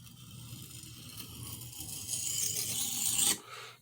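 Boning knife blade stroked with light pressure along a sharpening stone on the burr side, a steady raspy scrape that grows louder and ends in a brief sharp scrape, no talk.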